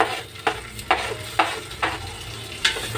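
Onions and tomatoes frying in oil and ghee for egg biryani sizzle steadily while a spoon scrapes the pan in about six evenly spaced stirring strokes, close and clear with no voices.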